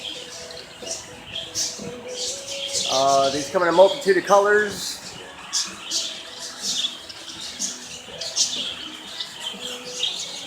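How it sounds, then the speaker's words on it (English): Parakeets in a bird enclosure at Gatorland in Florida give quick, high, repeated chirps throughout, while a person talks briefly over them. "Got the little parakeets."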